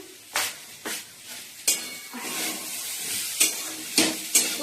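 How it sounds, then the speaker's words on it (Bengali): Potatoes and onion shoots sizzle steadily in a pan while a utensil stirs and scrapes in several sharp bursts, close by, with no talking. "পেঁয়াজ কুড়ি আলু ভাজা হচ্ছে"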